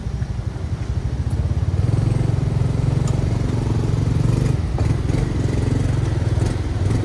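A motorcycle engine runs nearby on a running route at checkpoint 2, a steady low throbbing putter that stays loud and close throughout, with a faint clatter over it and no talk.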